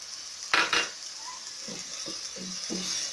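Salt, turmeric and ground red chili being fried and stirred in a pan for fish curry, with two sharp scraping strokes followed by a soft sizzle and several lighter stirring scrapes.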